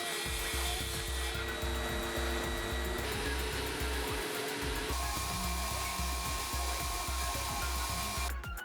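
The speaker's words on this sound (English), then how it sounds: "Now I'll cut the piece that goes in the slot in the bandsaw table." A bandsaw cuts through HPL board in a workshop, a steady loud whining hum with a raspy cutting texture running throughout.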